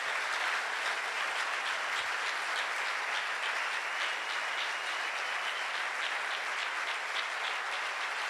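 Church congregation applauding and cheering for God, a dense, steady wash of clapping that fills the space at full strength throughout, with no voice rising above it.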